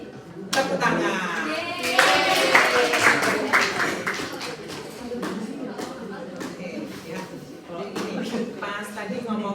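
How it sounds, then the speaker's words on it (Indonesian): An audience claps in a dense, lively burst after a student case presentation, loud at first and then thinning to scattered claps, with some talk in the background. "Tepuk tangan."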